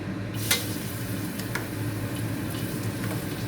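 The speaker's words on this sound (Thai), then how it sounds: "ใส่น้ำมันนิดหน่อยนะคะ แล้วก็ใส่กระเทียมเลย" Garlic frying in a little oil in a pan for a Thai stir-fry of minced pork and purple eggplant, giving a steady close sizzle with a few sharp utensil clicks near the start.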